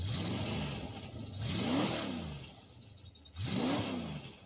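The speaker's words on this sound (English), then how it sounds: "Can you give us some revs in your old Ford" A Ford GT40 engine revs three times, each rise climbing to a throaty roar before dropping back, loud and close.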